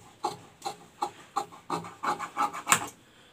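Chudidhar lining fabric being cut: a series of about eight rhythmic rasping strokes, close and fairly loud, coming faster and denser toward the end, with no speech.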